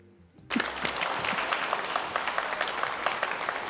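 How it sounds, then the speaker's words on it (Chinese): Studio audience applauding crosstalk (xiangsheng) performers at a televised show, a sudden burst of close, dense clapping that holds steady to the end. "谢谢您的掌声鼓励啊！"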